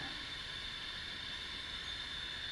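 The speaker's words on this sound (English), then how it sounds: "We'll do a white noise test here first." Steady white noise test signal played through equipment while checking capacitor outer foil orientation, a faint, even, continuous hiss with a slight tonal whine and no voices.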